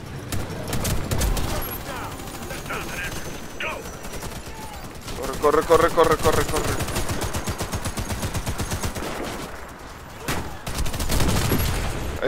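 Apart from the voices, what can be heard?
gunfire in the video game Warface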